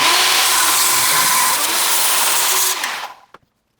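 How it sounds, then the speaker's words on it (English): A power saw makes a trimming cut along the edge of a wooden table built from bowling alley lanes, a steady loud whine running for about three seconds before winding down and stopping. "I'm gonna go ahead and do a trimming cut on here"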